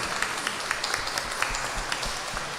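A quiet patter of scattered clapping from a small church congregation during a Sunday service, irregular and somewhat distant, continuing steadily throughout.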